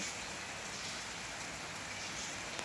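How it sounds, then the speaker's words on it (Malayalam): Heavy rain pouring down, a dense, even roar of drops that never lets up. "മഴ ശക്തമായ മഴയാണ്"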